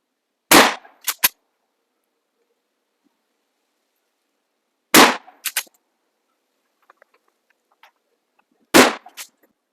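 A Maverick 88 pump shotgun fired outdoors three times, each shot a loud sharp blast with a quick echo, spaced about four seconds apart, with quiet pump-action clicks between shots.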